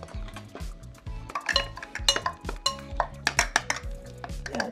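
Marinated olives are stirred in a bowl, with a spoon clinking and scraping against the dish in quick irregular knocks, close and fairly quiet, and no talking.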